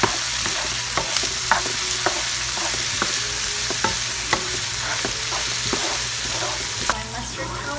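Minced garlic frying in a pan, a steady loud sizzle punctuated by frequent light taps and scrapes of a spoon stirring it around.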